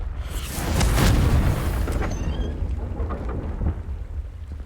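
A Confringo blasting spell in the wizarding game Hogwarts Legacy strikes with a loud, deep, rumbling boom that swells over the first second and then rolls on as a long, fading roar.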